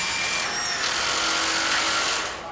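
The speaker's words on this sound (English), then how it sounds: "Well, it's blunt, isn't it? I don't think we've got a blunt drill bit, have we?" Power drill boring with a blunt bit, a loud, continuous high whirring grind that holds steady and then fades as it winds down at the end.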